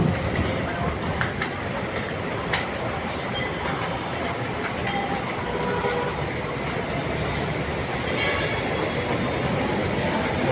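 Wheels grind and squeal on the rails of an LRT/MRT commuter train at speed, a steady loud rumble filling the whole stretch with faint metallic screeches and murmured voices underneath.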